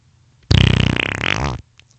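Someone blows a mouth-made fart imitation, a loud buzzing, sputtering raspberry lasting about a second, close and alone with no talk over it.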